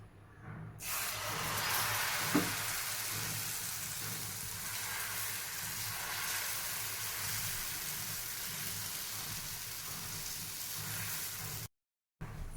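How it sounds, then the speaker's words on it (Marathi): Gram flour batter for a besan dhirde spreads into a hot pan, producing a soft, continuous hiss of frying that holds steady at low volume, with a brief silent break near the end. "पॅन छान गरम झालं आहे आता यामध्ये धिरड्याचं बॅटर टाकून घेऊयात"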